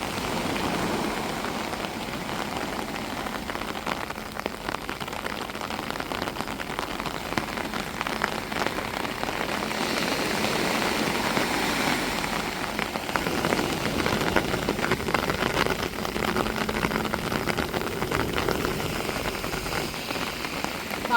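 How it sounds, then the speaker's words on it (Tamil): Heavy rain pours steadily at a seaside beach, a dense continuous hiss of drops hitting the surface close by, unbroken for the whole stretch with no voices. "மழை எப்படி பேஞ்சுக்கிட்டு இருக்குன்னு பாருங்க"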